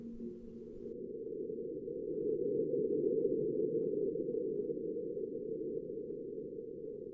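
NASA's InSight seismometer recording of the first Marsquake, sped up 60 times, is a low, dull rumbling hum that swells gradually in the middle and slowly fades, steady and without talk.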